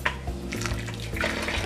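Hot water is poured into a bowl to make gelatin, giving a brief, close, continuous splashing and trickling stream.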